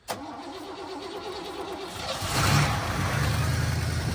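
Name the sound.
Oldsmobile Delta 88 lowrider engine cranking and starting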